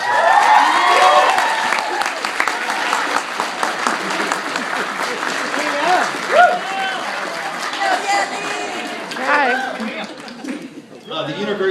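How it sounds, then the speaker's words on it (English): A graduation ceremony audience claps for the graduates' family and friends, a dense sustained round of applause with crowd noise and a voice speaking over it, thinning toward the end. "let's just take a second to applaud your family and friends for all your support"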